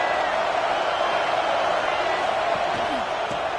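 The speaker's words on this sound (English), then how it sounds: "This crowd bringing the energy and noise early." Dense crowd roar fills a large stadium in the college football video game CFB 26, Georgia vs Kentucky, a steady wash of cheering voices with commentary mixed in.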